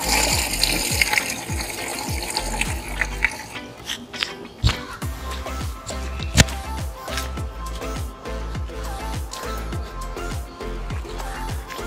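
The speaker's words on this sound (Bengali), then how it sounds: "গাছে আমি জল দিয়ে দিচ্ছি এবার" Water gushes and splashes steadily onto the ground around a young mango tree, a continuous pouring with irregular sputters and spatters, close and fairly loud, with no voices.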